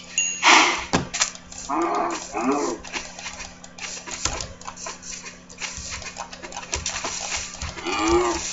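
Cows mooing in a farming video game, several loud lowing calls spread across the clip amid game clatter and background effects.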